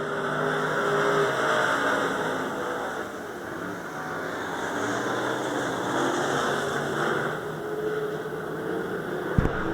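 Race cars roar around a dirt track at the Mize Memorial event, their engines making a steady, droning rumble that swells and fades a little as they pass, ending in a brief sharp knock.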